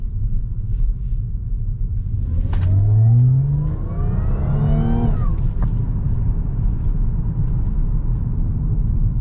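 An Audi A7 3.0T fitted with a CTS turbo intake, heard from the cabin as the engine pulls hard, rising steadily in pitch through the gears with a brief intake whoosh and a sharp cut at the shift.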